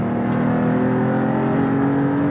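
Alfa Romeo 33 Stradale with an eight-speed dual-clutch gearbox revving hard from inside the car, a steady, loud engine drone with strong harmonic tones, no pauses or talk.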